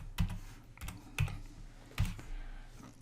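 Typing on a computer keyboard: sparse, separate key taps with a few sharper, heavier strokes, close and fairly quiet, with no talking.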